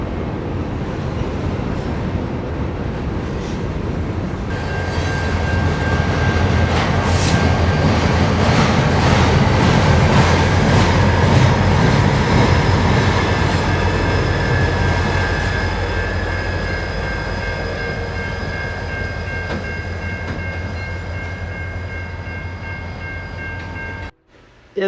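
An Amtrak P42DC diesel locomotive leads the eastbound Wolverine passenger train past, a loud sustained rumble of engine and rolling cars with wheel squeal and ringing tones swelling then fading.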